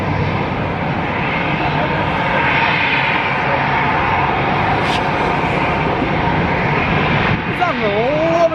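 Steady loud roar of an Atlas Air airplane crossing a runway at Amsterdam Schiphol airport, a continuous engine drone lasting throughout with people talking over it.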